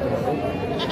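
Male goats at a Saturday goat market in Pebbair, with a short bleat near the end over steady crowd chatter and voices close by.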